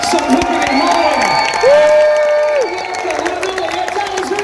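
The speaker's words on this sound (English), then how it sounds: "some clapping and cheering if you would. Some hooting and hollering." A live audience at a horror fan event cheers and hollers, with one long sustained whoop rising above the crowd noise midway through.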